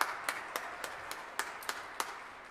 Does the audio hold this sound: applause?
yes